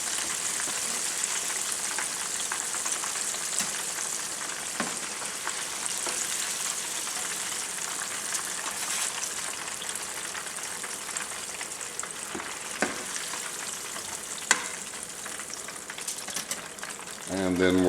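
Louisiana-style catfish fries in hot oil with a constant, bright crackling sizzle, steady throughout with a few sharper pops and some faint background talk.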